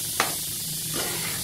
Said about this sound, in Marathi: तर हे गोळे तळताना का नाही वरच्यावर हलवायला पाहिजे